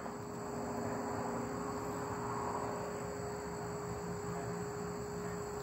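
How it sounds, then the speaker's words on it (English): Thin, steady outdoor insect hum with cricket-like chirring, faint and continuous, no voices. "All these little bugs flying around."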